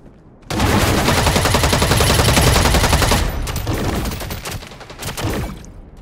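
Kinetic-ammo weapons fire in EVE Online: a dense, loud barrage of rapid repeating shots that starts abruptly after a quiet moment, holds steady, then thins into scattered bursts toward the end.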